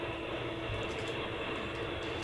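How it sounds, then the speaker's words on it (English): A Ferromex locomotive passes on a BNSF line, giving a steady, dense rumble of rolling rail traffic with no break or build across the short stretch. "there's a Ferromex unit over there going by on the BNSF"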